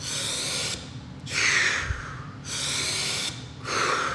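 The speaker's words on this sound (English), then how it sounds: "So the inhalation will look like this" Deep Wim Hof–style breathing: a single person takes several loud, rushing breaths close to the microphone, each inhale filling belly, chest and head before a pause, repeating in a steady cycle.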